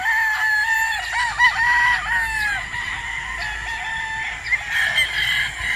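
Hens and roosters at a gamefowl farm crow repeatedly in overlapping calls, close and loud, with hens clucking between the crows in a busy, continuous chorus.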